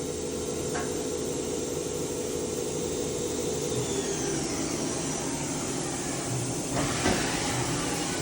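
A 2003 Daewoo DMV-3016 CNC vertical machining center makes rapid axis moves, a steady mechanical whine and hum with a sweeping tone and a brief louder burst near the end, running alone at moderate level.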